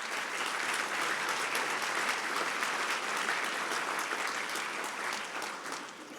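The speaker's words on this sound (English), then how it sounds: "and that deserves a round of applause" Sustained applause from a large dinner audience at a trade association gala, a thick, even wash of many hands clapping that holds steady before tapering slightly at the end.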